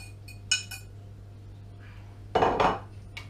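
Onion and spinach stirred into beaten eggs in a bowl for a Spanish omelette, heard as a few sharp clinks early and then a louder burst of utensil scraping against the bowl, close, over a low steady hum.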